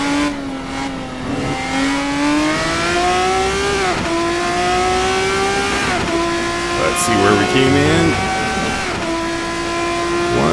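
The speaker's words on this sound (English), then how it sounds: "This is the Race Sim Studio Formula RSS 3 V6 2019." Formula RSS 3 V6 2019 race car in Assetto Corsa, its engine howling loud and close with steady high-pitched drones that climb through gear changes and dip briefly, under someone talking.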